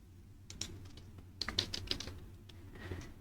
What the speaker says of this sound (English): So I want to type here images,